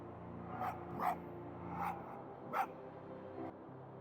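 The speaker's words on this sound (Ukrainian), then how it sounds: "Ну ладно, ми погавкаємо." A fox in the video game Spirit of the North gives four short, sharp barks spaced unevenly over a faint background hum, with no speech.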